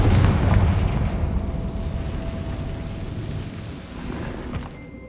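Confringo spell explosion in Hogwarts Legacy, a single heavy booming blast that fills the opening moment and then decays into a long rumbling tail with no talking.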